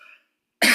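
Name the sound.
cough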